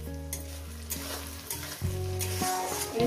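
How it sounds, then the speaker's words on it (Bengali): Onion and tomato frying in a pan for a spicy tengra fish curry, a steady close sizzle with stirring clinks and shifts in the crackle, with background music and no speech. "টমেটোটাকে দিয়ে আরও আমি 2-3 মিনিট ভাজবো।"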